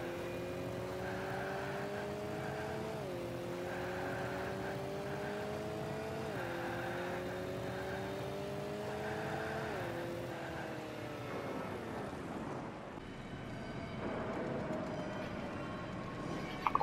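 The Octane car in Rocket League drives with a steady engine drone that climbs in pitch in repeated gear-like sweeps, then drops and fades into a quieter hum; no voices.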